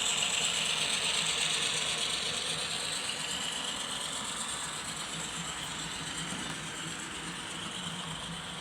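A model train runs steadily on a home layout, giving a faint, continuous mechanical whir and rattle of small gears and wheels with a high hiss that slowly fades as it moves away.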